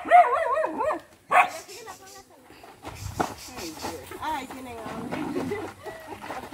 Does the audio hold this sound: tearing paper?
no